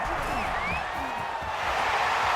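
Stadium crowd at an American football game roars in a steady, dense wash of cheering and whoops as a 2-point conversion attempt unfolds, loud and sustained throughout.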